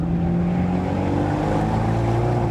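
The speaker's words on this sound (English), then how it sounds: "So that sport exhaust really has an effect." An Abarth 124 Spider with sport exhaust drones loudly and steadily, its low exhaust harmonics shifting slightly in pitch as the engine note changes, with no voices over it.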